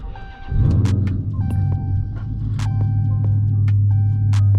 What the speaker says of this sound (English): So first thing I'm gonna give y'all is a startup inside the car.